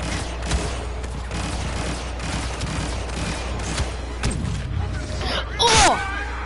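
A single sharp sniper rifle shot in a video game, cracking out near the end after a stretch of low ambient noise with some scattered faint sounds.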